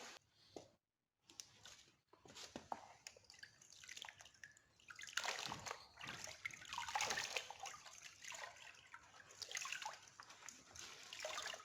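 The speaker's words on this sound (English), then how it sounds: "wash the rag." Splashing and sloshing water as a rag is dunked and wrung while cleaning a fiberglass wind turbine cover, with irregular wet bursts and drips growing busier after a brief opening pause.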